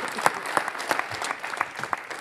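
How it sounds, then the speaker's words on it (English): Applause from a crowd at a general meeting, steady clapping with a few sharper peaks, fairly close and moderately loud, with no talking over it. "So a round of applause for group two"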